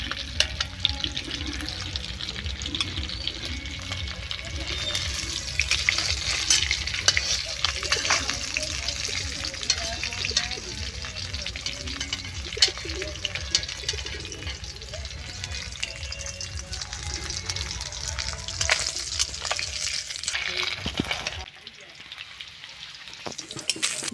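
Koi fish frying in hot oil give a steady, close sizzle and bubbling that runs almost to the end, then the sound cuts away abruptly as the pieces are lifted out.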